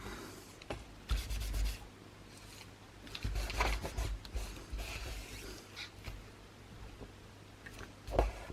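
Paper glued and pressed down by hand onto a scrapbook album page, giving soft close rubbing and smoothing strokes in short bursts with brief pauses between them.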